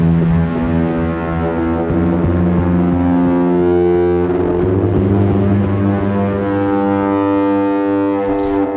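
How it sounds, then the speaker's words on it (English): Guitar tones run through a Blades filter and FX Aid delay and reverb ring out as dense, sustained distorted chords with a chorus-like shimmer, loud and continuous with no voices. "the guitar is going from Blades into FX Aid, and to get a little bit of delay and reverb on it"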